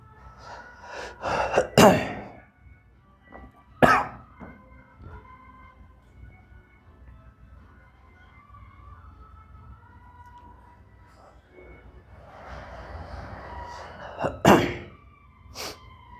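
A person with a bad cough, recovering on medicine, lets out a few sharp, isolated coughing bursts close by, spaced apart with quiet stretches and faint background noise between them.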